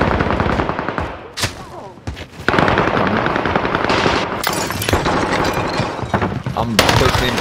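Rapid bursts of automatic gunfire and single shots from an online multiplayer shooter match, loud and close, with a brief lull before heavy sustained fire resumes; voices speak over it.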